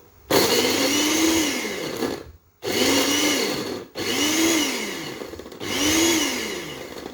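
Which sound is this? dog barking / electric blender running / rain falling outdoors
electric blender running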